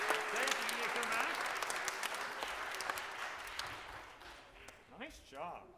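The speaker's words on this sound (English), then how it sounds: "give them a round of applause" Quiet audience applause for a group of singing girls at a school sing-along, steady clapping that fades toward the end while adult voices talk over it.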